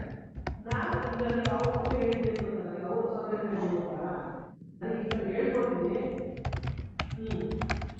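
Keys clatter in quick, irregular taps on a computer keyboard while a word-processing document is being written, close and steady, with a voice talking over much of it and a short pause midway.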